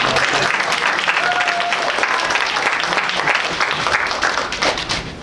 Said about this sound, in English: So once again, another a round of applause